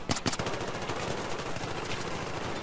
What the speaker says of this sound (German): jetzt schieße ich einfach da in den Nebel